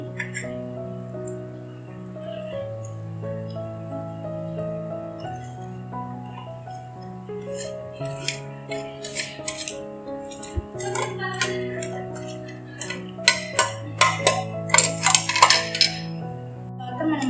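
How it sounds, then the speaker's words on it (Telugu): Tamarind and jaggery pounded for Ugadi pachadi, a run of sharp clinking strikes growing denser and louder toward the end, heard over steady background music. "బెల్లం వేసుకున్న తర్వాత బాగా దంచుకోవాలి"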